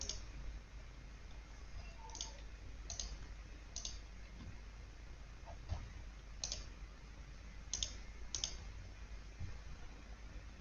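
A computer mouse clicks faintly and sporadically while someone works in Excel, with scattered single and double clicks over a quiet background hum.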